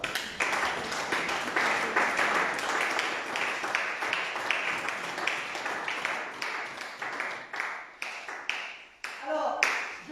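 A church congregation claps together in a lively, ragged burst of applause lasting around ten seconds, with a few voices mixed in.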